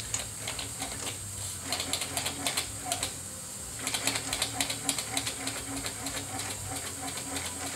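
A Linemar Atomic Reactor toy steam engine runs near the microphone, giving a steady hiss with rapid, irregular ticking and chuffing beats that grow busier midway, over a low background hum.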